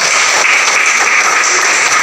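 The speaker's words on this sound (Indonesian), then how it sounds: "Tepuk tangan untuk Ibu Moderator." Students in a classroom give a loud, continuous burst of applause for a moderator, a dense steady clatter of many hands.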